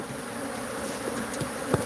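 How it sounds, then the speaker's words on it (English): Bees swarm and buzz continuously around a hive packed with honeycomb, a steady close drone with a brief louder burst near the end and no voices. "there's a bunch of honeycomb in here. Bees, bees, bees."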